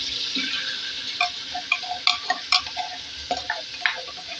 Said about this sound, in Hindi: इसके बाद इसको अच्छी तरीके से जो है वो करेंगे फ्राई